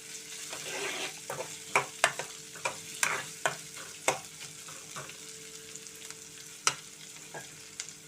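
Onions and tempering seeds fry in a pan for a Bombay chutney, a steady close sizzle broken by repeated sharp scrapes and clicks of stirring, with no talking.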